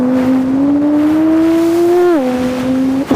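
A human voice imitates a car engine for a driving video game: a steady, close droning hum that creeps slightly upward in pitch, then dips abruptly and levels off, heard alone.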